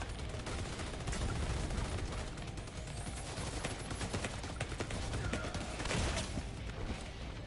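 Dense, rapid gunfire from the video game The Division 2 rattles on continuously at low volume, with bursts overlapping into a steady, crackling barrage.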